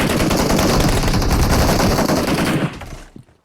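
Rapid automatic gunfire in a video game, a loud, dense, continuous burst for nearly three seconds that then cuts off abruptly, followed by a few faint trailing clicks.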